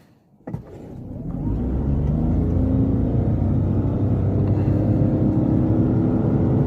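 Petrol-electric hybrid engine of a 2021 Toyota Yaris Cross Hybrid kicks in after a brief click, then settles into a steady, loud droning rumble during a full-throttle 0-100 km/h run from inside the cabin.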